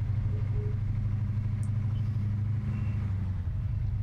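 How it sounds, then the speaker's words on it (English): A car in the ArmA 3 video game driving on a flat tire, its engine giving a steady low rumble throughout, close and continuous, with no talking. "Come on, little car, you can do it. A flat tire is no excuse to fail on the battlefield."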